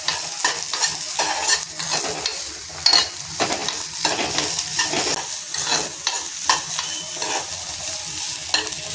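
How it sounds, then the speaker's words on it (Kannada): Onion and garlic fry in oil in a pan, a steady close sizzle broken by repeated scraping stirs of a spoon through the pieces, with no talking. "ಈ ರೀತಿ ಫ್ರೈ ಆಗ್ತಾ ಇರುತ್ತೆ ಇದು ಸ್ವಲ್ಪ ಇದು ಚೆನ್ನಾಗಿ ಬಾಡಿಸ್ಕೋಬೇಕು ಈರುಳ್ಳಿ ಆಗಲಿ ಬೆಳ್ಳುಳ್ಳಿ ಆಗಲಿ"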